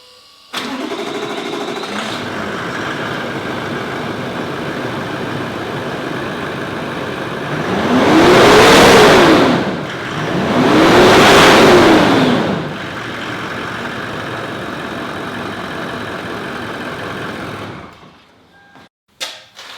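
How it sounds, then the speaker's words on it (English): A car's engine, freshly refitted with a cleaned intercooler, idles steadily, then is given two cold revs that rise and fall in pitch, running about 6 PSI of boost, before settling back to idle and shutting off. "that was running the boost at about 6 PSI, just a couple of those cold revs there"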